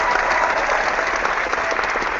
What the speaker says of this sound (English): I'll do an applause.